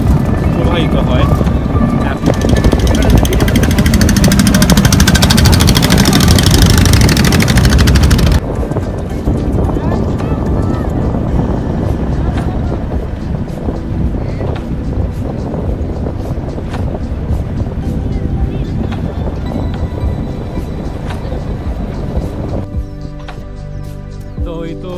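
A motorboat on a river trip at Sariakandi, Bogura, with its engine droning loud and steady for the first several seconds, then continuing more quietly. Wind buffets the microphone and a person talks over the engine noise.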